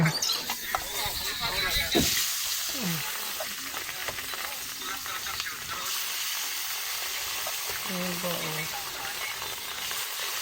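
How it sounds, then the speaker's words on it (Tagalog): Food sizzles and hisses steadily in a frying pan that is flaring up with flames, a loud, continuous crackle with occasional sharp pops, while people talk nearby. "Ayun o, nag-aapoy-apoy yung kawali o."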